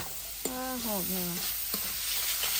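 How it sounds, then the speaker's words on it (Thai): Eggplant and garlic stir-fried in a pan give a steady broadband sizzle, broken by two short clacks of a utensil against the pan and a brief harmonic squeak in the middle. "อันนี้มันคั่วมะเขือกับอันกระเทียม"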